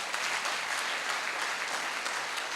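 A live audience at a Hindi motivational talk breaks into loud, steady applause. The dense clapping fills the whole stretch without letup and with no voices over it.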